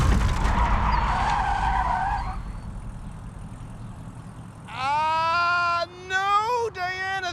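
A car in a driving challenge swerves, brakes mid-swerve and skids, a loud rushing tire slide followed by a rising, wavering squeal of spinning tires, with voices talking around it.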